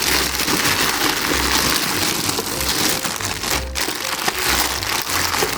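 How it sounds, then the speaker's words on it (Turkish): Plastic wrapping on a new dough kneading machine crinkles and rustles steadily, close and fairly loud, with a few brief sharper crackles partway through as the packaging is pulled open. "Bakalım şimdi poşetini çıkaralım."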